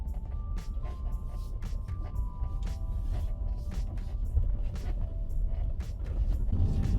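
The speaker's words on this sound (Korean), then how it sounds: "정말 귀에 지겹게 들리는 차량 실내에서 나는 잡소리입니다." Rattling and creaking inside a Tesla Model Y cabin, apparently from the second row and loose seat trim, heard faintly over a steady road and tire rumble, with intermittent small clicks and creaks throughout while driving.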